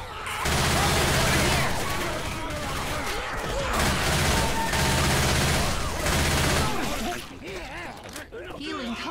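Sustained gunfire from the co-op zombie shooter Left 4 Dead, loud dense bursts running for several seconds before trailing off into scattered game noise, with players shouting over it.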